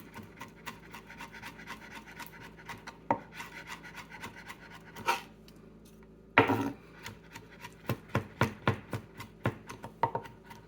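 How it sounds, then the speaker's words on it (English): Steady, quick knife chopping and scraping on a wooden board as anchovy is minced, close and moderately loud, with a couple of heavier scrapes midway before chopping resumes. "Do a little mincing of the anchovy."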